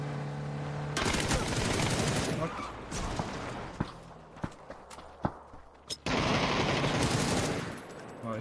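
Gunfire in the video game PUBG: loud, dense bursts of automatic fire that stop and start, mixed with sharper single shots near the end.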